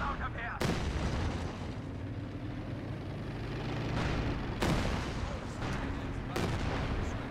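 Artillery shelling in Company of Heroes 2 pounds an enemy Schwerer Panzer headquarters, with several loud, sharp impacts spaced a few seconds apart over a constant rumble of battle and a commentator's voice.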